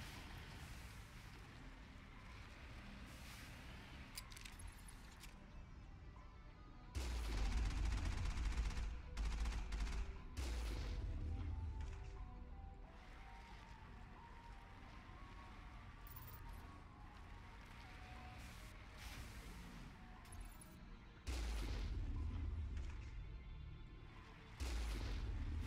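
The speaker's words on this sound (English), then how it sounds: "Gotta watch out for those missiles" Combat in the Mass Effect video game: heavy booming missile impacts and bursts of gunfire, loud blasts recurring in waves over a steady background of battle noise, with no talking.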